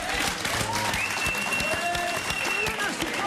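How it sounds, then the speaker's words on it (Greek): A television studio audience applauds with a steady, busy clatter of many hands, while voices and tonal sounds ride over the clapping. "Χειροκρότημα, ρε παιδιά!"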